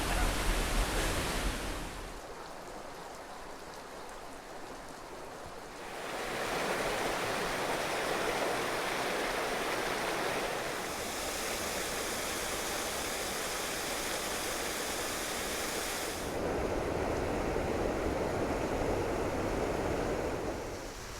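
Waterfalls along the Appalachian Trail pour in a steady broadband rush, their roar rising and falling in intensity as the listener moves closer to and away from the falling water, with no voices present.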